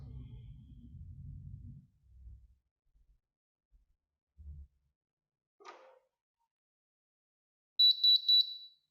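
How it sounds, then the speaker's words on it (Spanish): A wireless alarm sensor from a CEMsrl Atix wireless alarm system, set to signal-test mode, gives three quick, clear high beeps in a row after several low thumps and handling noises. "se encendió este LED y suena 3 veces el bip"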